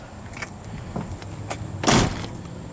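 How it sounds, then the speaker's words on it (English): A single solid car door thump near the end on a 1969 Dodge Dart GT, preceded by a few light clicks and rattles, close by. "Well, door's shut good on it."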